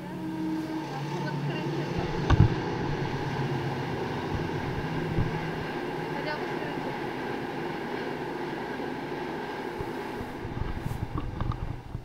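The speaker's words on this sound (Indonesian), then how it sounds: "Syahdu sekali ada suara kereta di sebelah ya" A train rolls past nearby with a sustained low rumble and faint rail clatter lasting the whole stretch, a few louder knocks rising out of it, while voices are heard faintly.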